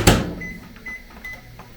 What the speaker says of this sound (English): Back in the microwave, another 30 seconds.